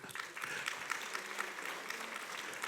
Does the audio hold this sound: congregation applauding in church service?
yes